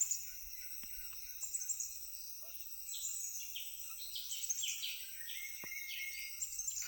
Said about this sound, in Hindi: चिड़िया की भी आवाज़ आएगी, गौर से सुनना।